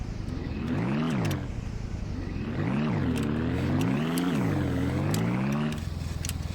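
A car driving over rough mountain terrain in Ranch Simulator, engine revving up and down in repeated rising and falling sweeps, steady and fairly quiet throughout.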